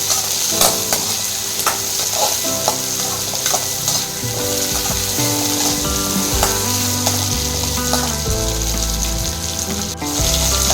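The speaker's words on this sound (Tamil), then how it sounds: "வெங்காயம் நல்லா வணங்கிடுச்சு" Sliced onions with garlic fry and get stirred in a pan for a drumstick kara gravy, a loud, close, continuous sizzle broken by repeated scraping and clattering of the spoon against the pan, with no voices.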